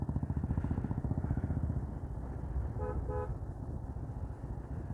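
A KSRTC bus on the road to Vattavada rumbles past close by with a steady engine drone, sounding two quick horn toots midway.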